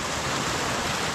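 Icy water spills over a short cascade in Rayones, Nuevo León, making a close, continuous, fairly loud rush and splash with a steady, unbroken texture and no speech over it.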